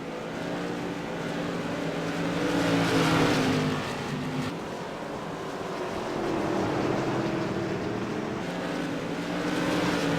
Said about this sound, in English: Kyle Barnes has the Tour Modifieds to the outside as the 46 machine hugs that yellow line